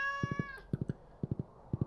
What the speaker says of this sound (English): Meow, indeed.